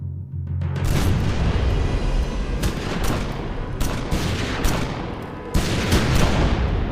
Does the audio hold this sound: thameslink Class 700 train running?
no